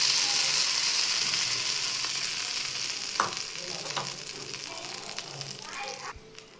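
Tempering of oil and curry leaves being stirred into coconut chutney, a soft hiss with a few spoon taps and scrapes against the bowl, fading slightly over time.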